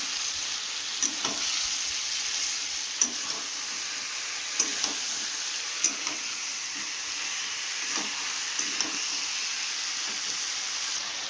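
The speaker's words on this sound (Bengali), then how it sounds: "আবার খানিক্ষণ ভাজবো" Fried cauliflower, potato and spices sizzle steadily in a pan, a soft continuous crackle broken by occasional sharper spits and stirring clinks.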